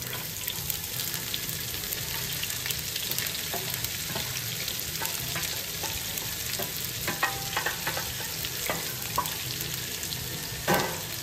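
Onion, fennel, garlic, cumin and chilli frying in oil in a pan, a steady crackling sizzle throughout, broken by scattered spoon stirs and scrapes that grow busier toward the end.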